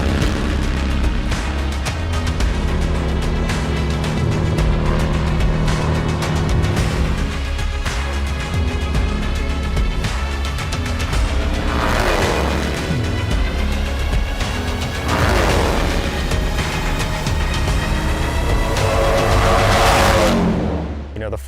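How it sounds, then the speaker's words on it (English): Harley-Davidson bagger motorcycles race on a track, their engines roaring loudly and continuously, with surging rises in pitch as they accelerate and pass, mixed with crowd or track ambience. "to be out there with your brother racing Harley-Davidson motorcycles out here on the track"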